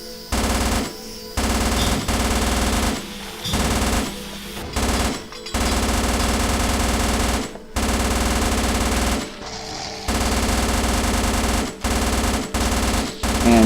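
A submachine gun in the VR shooter Necro Mutex fires in long, loud sustained bursts, rapid automatic fire broken by short pauses between strings, with no talking.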